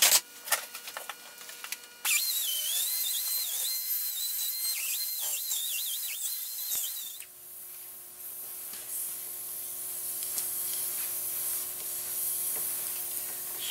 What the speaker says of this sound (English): Let's deburr some edges here.